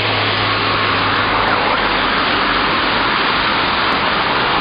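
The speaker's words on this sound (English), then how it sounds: "This is rush hour over Catford Bridge." Steady, loud rush-hour road traffic crossing Catford Bridge, a dense continuous roar of passing cars and engines with no gaps and no voices.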